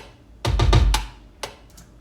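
A soloed electronic kick drum plays a short pattern in a beat being produced on a MacBook Pro M1, with each hit louder than the last: a quick cluster of thumps followed by a couple of sparser, softer hits.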